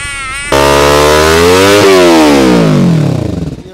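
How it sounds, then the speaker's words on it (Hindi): A Kawasaki Ninja 300 fitted with a carbon exhaust idles briefly, then the throttle is opened and the engine revs loud and close in one long sustained pull that rises, dips, and winds down toward the end, with no talking. "और अब देता हूँ इसका थ्रोटल।"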